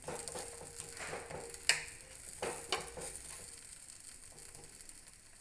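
Bobbatlu, sweet stuffed flatbread made with field beans, roasting on a hot pan, heard as a soft continuous sizzle with a few light taps and scrapes.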